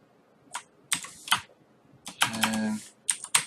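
Typing on a computer keyboard, heard as short irregular bursts of close key clicks with brief pauses between them, alone and with no talking.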